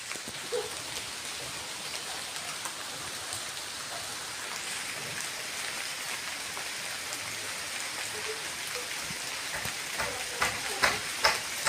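First raindrops of the season falling in a Bengal village garden beside a mango tree, a steady soft hiss of rain with scattered sharper drop hits that grow more frequent toward the end.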